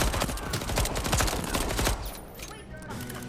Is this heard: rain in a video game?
no